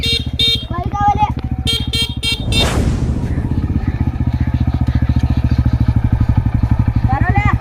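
A motorcycle pulls in close and settles into a loud, steady, rapid idle thud that runs to the end, with voices heard before it arrives.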